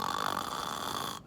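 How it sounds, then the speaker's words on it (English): Snoring sounds in one continuous, steady, moderately loud breath lasting just over a second, with no other voices. "His friends snore on."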